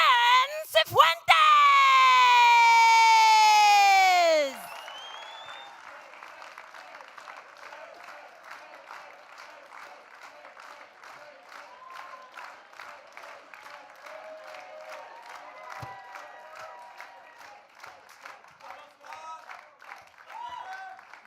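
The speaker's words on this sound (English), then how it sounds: "a big round of applause all the way from Chile" An audience applauds the final player at the Microsoft Excel World Championship 2025 finals. A loud swooping synthetic sweep opens, then steady, moderately distant clapping from a crowd continues throughout.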